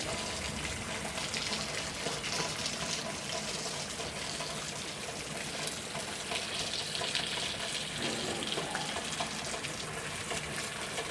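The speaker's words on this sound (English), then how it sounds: "it's raining like a savage now." Heavy rain pouring steadily during a thunderstorm at a farm by a house and horse barn, a dense continuous hiss of water falling and splashing, loud and unbroken throughout with no voices.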